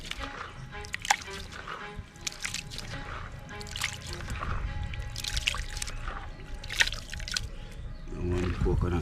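Coconut milk squeezed by hand from grated coconut for a one-pot stewed chicken rice, soft intermittent drips and trickles of liquid falling nearby while a person talks.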